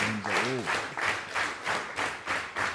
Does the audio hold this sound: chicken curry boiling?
no